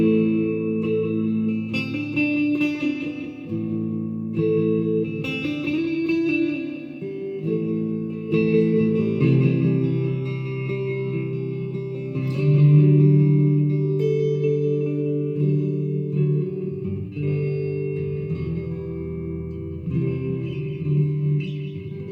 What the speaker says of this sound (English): This is delay with reverb, and I had the reverb quite high in it